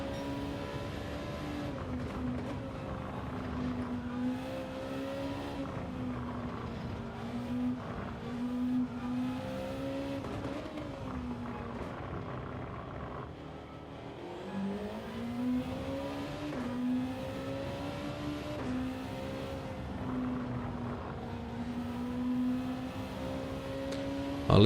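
A race car engine in a sim racing game time trial holds a steady high whine that rises and falls with throttle and gear changes, near and continuous throughout, with occasional tire noise.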